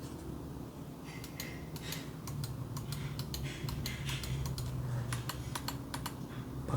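Crisp, quiet button clicks from a RAWM SA computer mouse, pressed in quick irregular runs at close range over a steady low room hum, with no voices.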